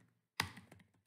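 One sharp, close keystroke on a computer keyboard, followed by a few fainter taps trailing off, with no talking and quiet around them.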